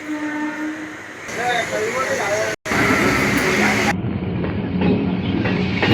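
A passenger train runs with a steady rumbling roar, loud and close as if from on board, with a short dropout midway and voices talking over it.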